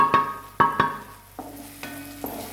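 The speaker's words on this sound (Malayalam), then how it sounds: "ഇതിൻ്റെ പച്ചമുളക് മാറുന്നത് വരെ ഒന്ന് ഇളക്കി കൊടുക്കാം" Spice powders being stirred into frying onions and green chillies in a pan for Kerala egg masala thoran: a few close scraping strokes with a faint sizzle underneath, quiet and sparse.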